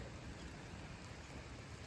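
Steady rain falling outdoors in a garden, a continuous broadband hiss of drops that holds at an even, moderate level with no voices.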